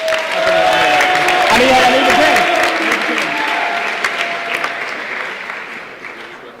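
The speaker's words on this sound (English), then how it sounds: "So give a big round of applause for Andrew" Convention crowd of young delegates at a state party primary claps loudly and steadily, then the applause thins and tapers off, with a few voices mixed in.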